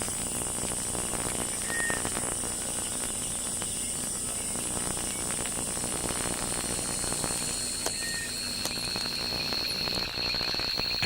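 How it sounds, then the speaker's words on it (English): Night chorus in Kruger National Park led by a tree frog, with high, steady insect-like trilling and chirps running continuously over faint background hiss, no voices. "A tree frog"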